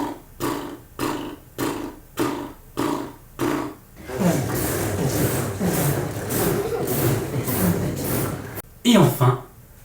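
A voice mimics a tractor just starting up, with six or so evenly spaced chugging puffs that merge into a continuous throaty rumble, ending with a few louder sputters.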